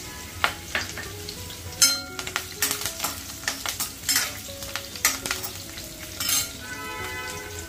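Green chili and curry leaves fry in hot oil for egg bhurji with a close, crackling sizzle, punctuated by repeated metallic stirring and scraping of a spatula against the pan.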